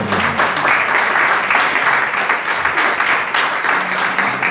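A congregation at a Yom Kippur service applauds in praise, a dense, loud wash of many clapping hands filling the room without pause.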